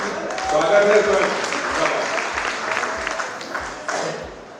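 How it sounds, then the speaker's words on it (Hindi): Audience at a kavi sammelan poetry gathering applauds, a lively burst of clapping heard alongside talk and rhythmic low thumps throughout. "एक बार सारे लोग उसको तालियां बजाकर बताएं"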